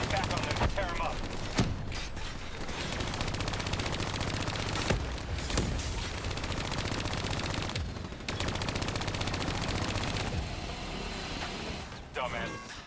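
Rapid automatic gunfire in the shooter game Call of Duty: Black Ops 3, dense bursts rattling almost without pause, with brief gaps and explosive thuds, under game voices speaking.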